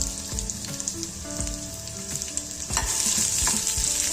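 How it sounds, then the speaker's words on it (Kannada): Sliced onion frying in a spoonful of oil in a pan, a close, continuous sizzle with stirring and scraping clatter and a louder hiss in the final seconds, no talking. "ಇದಕ್ಕೆ ಒಂದು ಈರುಳ್ಳಿ ಸ್ಲೈಸ್ ಆಗಿ ಕಟ್ ಮಾಡ್ಕೊಂಡಿದ್ದೀನಿ. ಇದನ್ನ ಹಾಕೊಂಡು ಫ್ರೈ ಮಾಡ್ಕೊಳ್ತೀನಿ."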